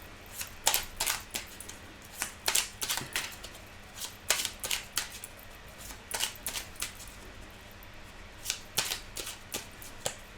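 Tarot cards are shuffled by hand up close in a quiet room, making repeated crisp riffling snaps and soft slaps in irregular bursts over about ten seconds, with no talk.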